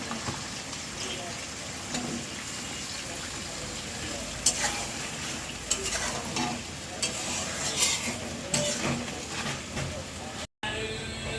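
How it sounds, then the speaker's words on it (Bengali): Pointed gourd, potatoes and green chillies stir-fried in spice paste for a pangas fish curry: a steady loud sizzle with repeated spatula scrapes and stirring clatters throughout, close up. "এখন যে পটল আলু আর সাথে কাঁচামরিচ আছে দিয়ে কিছুক্ষণ কষাবো।"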